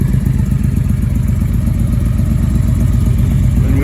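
A motorcycle engine idles steadily after an oil change, a loud close low chugging rumble that holds even throughout with no voices.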